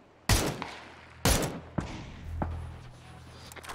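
Gunshots in the video game PUBG, three sharp, loud reports spaced about a second apart followed by fainter distant shots, with quiet ambience between them.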